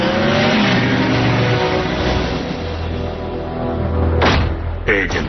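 Bumblebee, the Transformers robot in car form, drives off with a loud, steady engine roar that rises in a rev, closing with a thump near the end.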